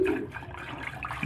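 Cold water runs into a container, a steady close gush and splash that holds the whole time with slight gurgling shifts.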